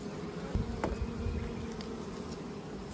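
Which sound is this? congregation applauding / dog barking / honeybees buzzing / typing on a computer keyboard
honeybees buzzing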